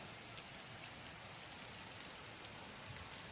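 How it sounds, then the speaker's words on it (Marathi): Steady rain falls in a dense, even hiss with scattered drops tapping nearby, with no voices. "छान असा पाऊस चालू झालेला आहे"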